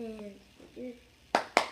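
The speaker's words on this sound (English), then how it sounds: "Okay, step one, clap clap." Two sharp hand claps, evenly spaced and close, open a cup song routine right after a child's brief speech.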